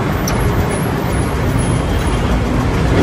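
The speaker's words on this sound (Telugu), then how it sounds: "ఇప్పుడు మనం గవర్నమెంట్ బస్ లో ఉన్నాం" Steady, loud engine drone and rumble from inside a government bus crawling through heavy Bangkok traffic, a continuous low roar with a brief hiss near the start and no talking.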